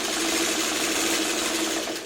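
A sewing machine runs in one short continuous burst, stitching small pieces of a coffee mug quilt block, its rapid mechanical whir close and steady with no talking.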